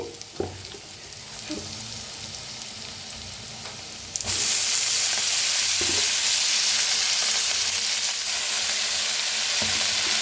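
Potatoes fry in a pan and fenugreek leaves go in, setting off a loud, steady sizzle that jumps sharply in strength partway through and then holds, with faint stirring scrapes and no talking.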